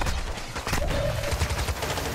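Gunfire in the shooter game DMZ, dense bursts of rapid shots rattling continuously at close range with no talk over it.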